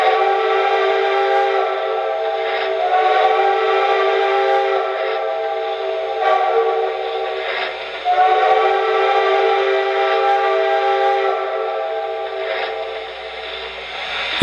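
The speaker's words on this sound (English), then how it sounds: "And a crossing signal." An MTH Santa Fe Blue Goose model train sounds its crossing signal whistle, a loud, steady, multi-tone horn with long blasts broken by brief pauses, close and alone for about fourteen seconds.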